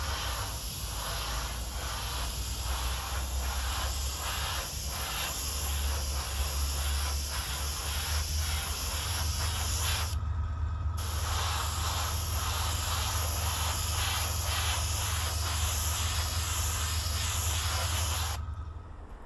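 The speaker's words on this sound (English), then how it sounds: "we'll go ahead and spray these in matte varnish" Steady aerosol spray of matte varnish over model railway vehicles, a continuous close hiss broken by two short pauses in spraying.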